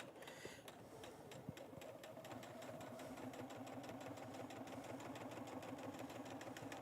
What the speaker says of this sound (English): for sure you want to have your walking foot engaged. So I'm going to start it not at the edge, and then I can back stitch